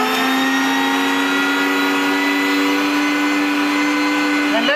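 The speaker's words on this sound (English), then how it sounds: "let me set up the meat grinder and I'll be right back" Electric meat grinder running steadily with a loud, constant motor whine and hum, close by and unbroken, with no talk over it.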